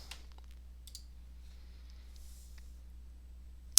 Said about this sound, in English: type a name for the dashboard like Training